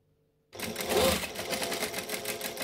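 A sewing machine stitches a seam on a bi-fold wallet, starting after half a second of quiet and then running as a steady, close, even whirr that lasts to the end.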